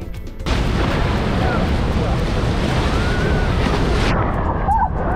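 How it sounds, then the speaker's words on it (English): Loud rushing water and wind noise from a moving boat at Rhine Falls, with spray and splashing continuing for several seconds before easing near the end. "Got a big splash on my face."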